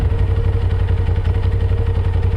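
A 2023 Suzuki GSX-R1000R motorcycle engine runs close-up at a steady low RPM during its first service, giving a loud, even idle rumble with a faint mechanical clatter.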